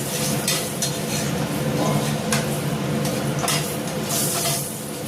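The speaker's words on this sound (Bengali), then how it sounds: "দুটো শুকনো লঙ্কা কেটে দিয়ে দিচ্ছি। তা আমি এই ডালটা ফোড়ন দেবো" Dal being tempered with two cut dried red chillies dropped into hot oil, a dense steady sizzle with scraping stirring and light utensil clinks running throughout.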